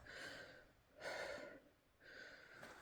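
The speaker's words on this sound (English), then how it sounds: "I'm still breathing hard when climbing up that" A person breathes hard after a steep climb inside an abandoned mine, with three heavy, raspy breaths evenly spaced and close to the microphone in a quiet space.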